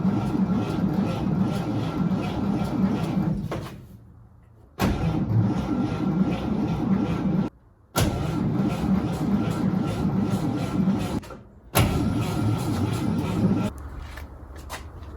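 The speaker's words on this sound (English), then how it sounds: "I Turn the key on and push the foot pedal." A 1953 Chevy truck engine cranking repeatedly: loud, steady grinding bursts of several seconds each, separated by short pauses, with no clear catch and run.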